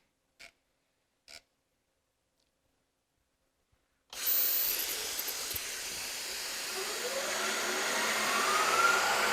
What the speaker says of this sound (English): I'm using a mist coolant system.